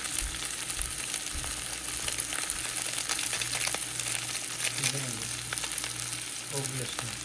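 Maggi noodles fry in a pan as the packet masala and chili powder are added and mixed in, a soft, steady sizzle with faint scraping and occasional clatter, a voice speaking quietly in the background.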